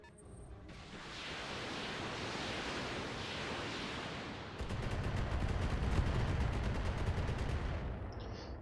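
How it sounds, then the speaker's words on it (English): In the mech game Roguetech, weapons fire and a barrage of missiles launches as a long, loud wash of noise, then a denser rapid rattle of shots kicks in partway through and keeps going, with no talking. "That's a lot of missiles."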